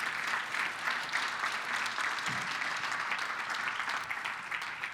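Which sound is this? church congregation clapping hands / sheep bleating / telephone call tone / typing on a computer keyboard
church congregation clapping hands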